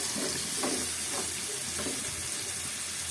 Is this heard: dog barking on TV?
no